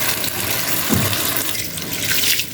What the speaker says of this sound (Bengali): ধীরে করে নিচে বসায়া অনেক পানি দিয়ে ধুয়েছি, তারপর আরেকটু নিচে বসায়া পানি দিয়ে ধুয়ে নিচ্ছি সুন্দর করে